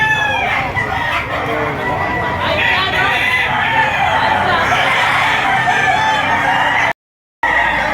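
Gamecock roosters, including a gray stag, crow loudly and repeatedly at a busy fowl market, with clucking, crowd murmur and someone talking over the din before a brief cutout.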